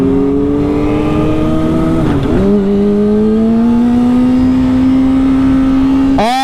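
A tuned motorcycle engine, set up on a Pro Commander, drones loudly during a ride, with its pitch dipping briefly and then climbing steadily before a sudden sharp rev at the end.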